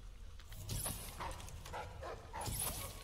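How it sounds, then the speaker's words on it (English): Dogs snarling and barking while fighting in the video game Dishonored, several yelping bursts at moderate distance over a low background drone, with no talk. "Looks like the dogs won the fight."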